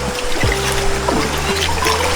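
Cool river water rushes and swirls around a pair of dipped feet, a steady broadband wash with no voices, close and fairly loud throughout.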